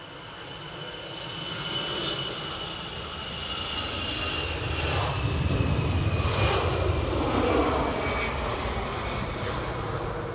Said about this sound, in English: Right, EasyJet's on roll.